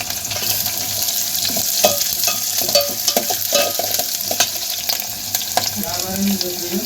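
Curry leaves frying in a pan with onions: a steady, bright sizzle and crackle close up, with stirring scrapes and small pops running throughout.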